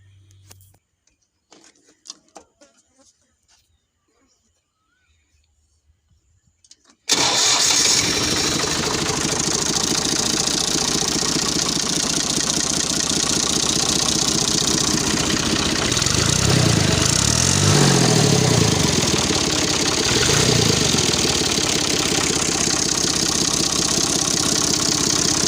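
After a quiet start with light clicks, a Ghazi 65HD diesel tractor engine turns over and settles into a loud, steady idling rumble that continues to the end.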